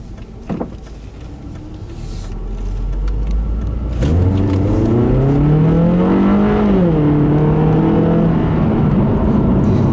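A 2013 Scion tC, a front-wheel-drive coupe, pulls away on a back road, its engine note climbing steadily and loudly from about four seconds in, with one brief dip as it shifts, then rising again; no talking.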